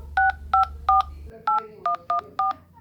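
An Apple Watch Ultra dials out, giving a quick sequence of seven distinct touch-tone beeps, clear and close, with no talking.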